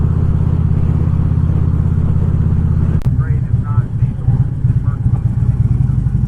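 A motorcycle engine drones steadily on the road, a harmonic hum that shifts pitch partway through as the ride continues, with someone talking over it and wind buffeting throughout.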